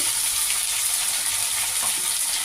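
Potatoes fry in hot oil in a pan with a dense, continuous sizzling hiss, steady and close, as a ginger and green chili paste goes in.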